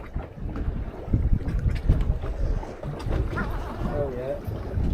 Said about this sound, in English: this wind's just blowing us off the wreck.